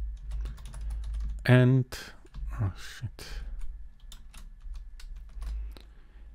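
Quick, light keystrokes clatter on a computer keyboard as a username is entered, a brief spoken word and a sigh mixed in over a low steady hum.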